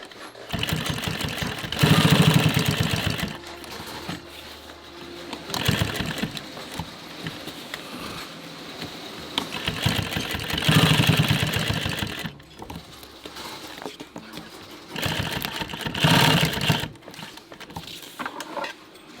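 A sewing machine stitches gear in several bursts, its rapid mechanical whirring and clatter running for a few seconds at a time between quieter pauses, close and fairly loud.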